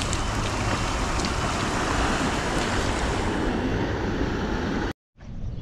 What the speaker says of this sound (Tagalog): Lakas kasi ng agos.